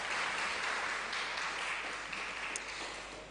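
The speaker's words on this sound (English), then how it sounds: "another round of applause for our young emerging leaders" A church-hall style audience applauds young emerging leaders at a children's parliament event, a steady wash of many hands clapping that stays loud and even before tapering slightly at the end.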